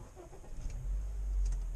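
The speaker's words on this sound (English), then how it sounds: "let's start up the car. You have this start stop button over here." A 2018 Honda City VX i-VTEC petrol engine starts by push button inside the cabin, a brief starter churn followed by a steady low engine rumble rising in level and settling near the microphone.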